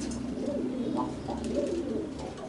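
A broad-boned Nash pigeon gives soft, low cooing calls up close, repeated several times over a steady background hum.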